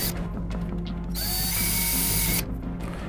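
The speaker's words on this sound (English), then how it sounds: "I'm going to use a drill bit and I'm just going to go around and start drilling out all the holes." A drill bit boring out holes in a plastic Han Solo DL-44 toy blaster, a steady close mechanical whir with a higher grinding pitch in the middle stretch, continuous without talk.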